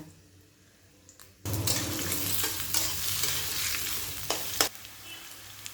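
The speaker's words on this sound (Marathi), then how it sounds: "कांदा आपल्याला एकदम कुरकुरीत असा तळून घ्यायचा आहे." Onions dropped into hot oil in a kadhai burst into a loud, sudden hiss that settles into a steady close sizzle with stirring scrapes, for crisp fried onions meant for chicken biryani.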